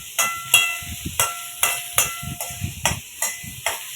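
Parotta chilli with a sprinkle of curry leaves being stirred in a pan, giving a steady run of sharp spatula scrapes and clacks against the metal, about one every half second, close up with no talk.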